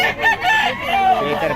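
A rooster crows at a gamefowl market in Bocaue, a single loud, close cock-a-doodle-doo filling the whole short moment with no talk over it.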